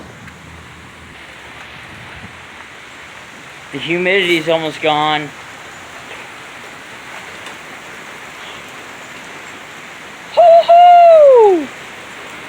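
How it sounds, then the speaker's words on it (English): Heavy rain falls during a thunderstorm as a steady, even hiss throughout, while a person speaks briefly twice over it. "Heavy rain!"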